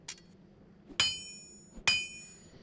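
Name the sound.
Charsi the blacksmith hammering sound from video game Diablo 2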